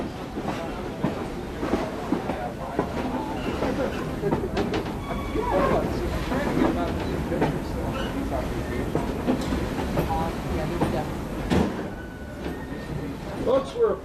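An excursion passenger train rolls along anthracite-country rails, wheels clicking and rumbling steadily with occasional squeals and rattles from the cars, while an announcer speaks over a carriage speaker.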